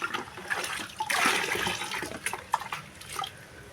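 Ground apple fertilizer being stirred into water, a close, short burst of swirling, sloshing liquid with small splashes.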